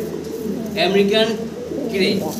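A Chila fancy pigeon coos softly in short, low bursts, close by against a quiet background.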